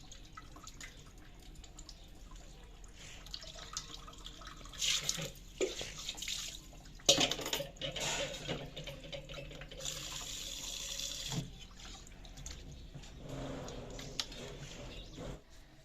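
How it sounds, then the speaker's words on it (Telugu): Raw chicken is washed under a running kitchen tap. Water streams and splashes unevenly, rising and falling in bursts, fairly quiet and near, with no clear talking. "ఆ చికెన్ కడుగుతున్నావు ఇప్పుడు"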